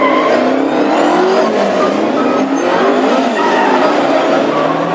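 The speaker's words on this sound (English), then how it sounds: "All the drivers beginning to test their brakes. Warm up the tyres." Classic hot rods on a race track run their engines and scrub their tyres, a dense, loud wash of revving motors and squealing rubber continuing without a break, with no talk.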